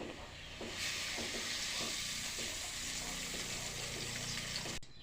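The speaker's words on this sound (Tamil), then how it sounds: "அதே கடாயில் கொஞ்சோண்டு எண்ணெய் ஊற்றி" Oil heats in a kadai pan, making a steady, close hiss and sizzle that holds evenly for several seconds. Faint light taps sound beneath it before it cuts off abruptly.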